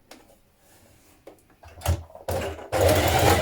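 Sewing machine stitching the seams of an artist's smock, running stitches off the end of a seam: quiet clicks at first, then louder bursts of whirring that build to a steady, close run at the end.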